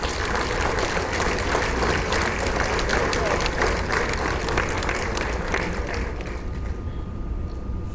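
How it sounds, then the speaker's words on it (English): A convention audience at a mid-year district gathering in St. Maarten applauds steadily, a dense wash of many hands clapping that holds for several seconds before thinning toward the end, with some talk mixed underneath. "let me hear your applause"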